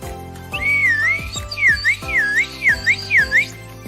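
A bright, breathy wooden flute imitates Balinese bird song, playing chirping, looping phrases over steady low sustained tones, close and clear with a lilting rhythm.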